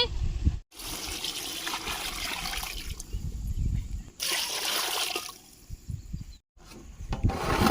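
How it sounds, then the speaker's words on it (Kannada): Water poured into cooked biryani masala for palak egg biryani, a splashing, trickling stream broken by short pauses between pours, close and loud. "ಇವಾಗ ನೀರ್ ಹಾಕ್ತಾ ಇದೀನಿ"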